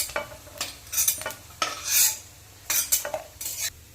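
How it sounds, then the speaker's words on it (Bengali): Fried lentil fritters (bora) are lifted from hot frying oil, with a scattered sequence of sharp metallic scrapes and clinks of a utensil against the pan over a faint sizzle, loud and close, no voices. "বড়াগুলো এবার তুলে নেব"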